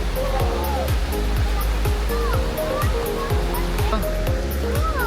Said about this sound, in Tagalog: Bakit na kami sa waterfalls?